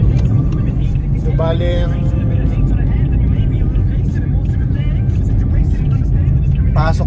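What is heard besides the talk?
car driving on the road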